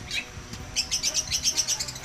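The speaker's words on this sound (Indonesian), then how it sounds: "Ada ayam hutan juga, ada merak, ada beberapa spesial burung juga di sini" Small birds near a peacock and junglefowl enclosure on a farm in Bali, bright high chirps and tweets in a quick repeated run, close and clear, with a little background noise and no talking.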